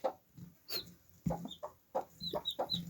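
A broody hen sitting in a basket clucks in short soft bursts, close and fairly quiet, with no talk.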